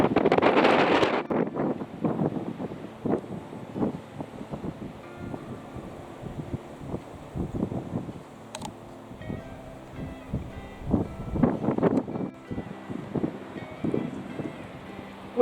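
Gusty wind buffets the microphone on a castle rooftop in Scotland, coming as uneven rumbling surges that rise and fall, with a stronger blast at the start and again near the end.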